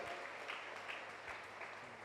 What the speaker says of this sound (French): Est-ce qu'on peut applaudir pour ces trois qui viennent?